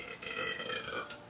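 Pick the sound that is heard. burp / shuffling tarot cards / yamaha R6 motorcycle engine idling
burp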